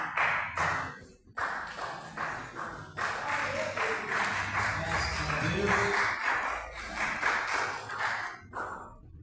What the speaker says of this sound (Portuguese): Que as palmas que louvem o Senhor.